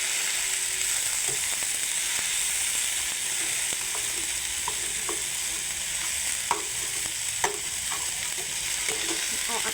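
Sautéed mixed vegetables are stirred in a hot frying pan, a steady close sizzle with intermittent scraping and clinks of the utensil against the pan.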